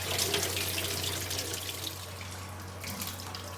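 Water runs steadily from a tap into a clay pot, a continuous splashing rush that stays close and fairly even for a few seconds.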